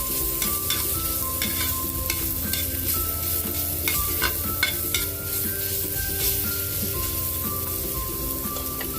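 Garlic and ginger sautéing in a pan for a pork rib tinola, a dense continuous sizzle with crackling pops and stirring throughout, close and loud, with no talking.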